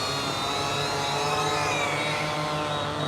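A drone hovers and descends to land near a burned-down apartment complex in Memphis, Tennessee, its rotors giving a steady, fairly loud whirring drone with a shifting pitch throughout.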